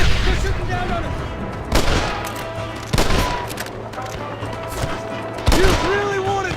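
Gunfire from a cliff in the Red Dead Redemption video game, several loud separate bursts of shots a second or so apart over a steady background hum, with voices talking between them.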